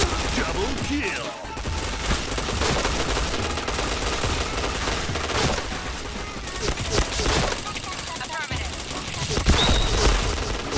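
Rapid bursts of automatic gunfire from a shooter video game, dense and continuous with sharp repeated shots and a few brief gaps, mixed under excited talking players.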